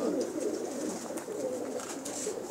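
Soft, low cooing of pigeons in a fancier's collection, faint and continuous with no talk over it.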